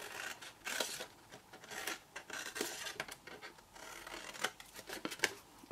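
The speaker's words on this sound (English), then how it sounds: "So keep rotating, cutting and wedging, cutting and notching." Card for a lidded box being cut and notched with scissors, soft repeated snips and rubbing scrapes, close but quiet, with no voices.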